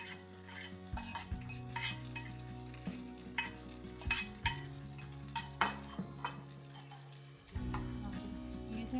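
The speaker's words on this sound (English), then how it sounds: "Fry the fried rice. Heat's hot." Fried rice fries in a hot pan under a constant sizzle, broken by repeated sharp metallic scrapes and clinks of a utensil stirring against the pan at irregular intervals, close and without speech.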